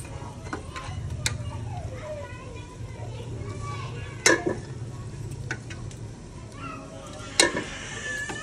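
Saag is stirred into a frying spice masala, with soft scraping and a low sizzle under spoken narration, sharp utensil clanks, and children's voices in the background.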